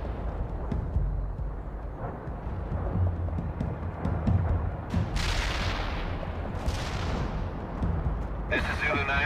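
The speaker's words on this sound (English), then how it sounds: "Artillery barrage inbound." An artillery barrage in World in Conflict, with deep rumbling booms and rolling blasts over a low, constant battlefield roar, then sharper explosions toward the end, and a radio-like voice speaking briefly.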